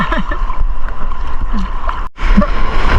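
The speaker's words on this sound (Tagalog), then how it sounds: "Laki ng alon." Waves slosh and gurgle against a small fishing boat at sea near an island, a continuous close wash of water with a brief dropout, and no talk.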